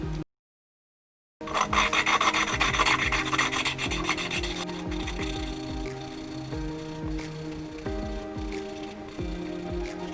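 An engine valve from a Polo's 1.2 AWY engine is lapped into its seat with grinding paste, giving a continuous close gritty rasping with a steady back-and-forth rhythm after a short silence at the start.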